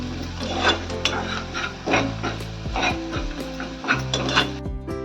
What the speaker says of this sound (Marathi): हे सगळं थोडं चांगलं भाजलं पाहिजे ना, म्हणून ते मी ढवळत राहते एक टाकून